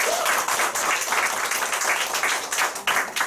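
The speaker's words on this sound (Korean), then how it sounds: "우리 김혜옥 사장님께 감사의 박수 부탁드리겠습니다." Audience applause at a business presentation seminar, a dense, continuous wash of many hands clapping from start to finish with no pause.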